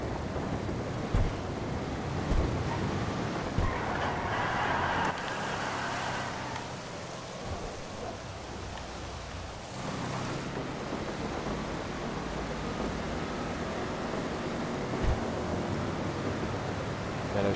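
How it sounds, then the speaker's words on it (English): Constant dense hiss of heavy rain in GTA Online with a low rumbling undertone, heard from a moving vehicle with its windows down, with occasional soft thumps. "Pouring down rain, I'm riding with the windows down."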